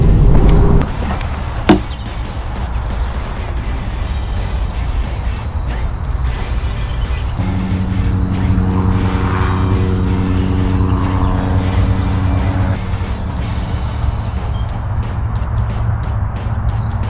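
Car carrying bikes in the back driving along a road, heard from inside as a loud steady engine and road rumble with a tonal hum rising partway through and one sharp knock near the start.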